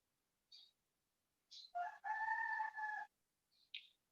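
A rooster crows once in a drawn-out call, fairly faint and distant, with a few short chirps from other birds before and after and no talk.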